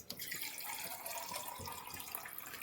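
Water being poured into a bowl of potato flour dough: a steady, continuous splashing pour with a bright running-water hiss, close and even throughout.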